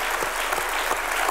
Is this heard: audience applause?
yes